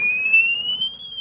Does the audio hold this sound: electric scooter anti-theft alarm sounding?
yes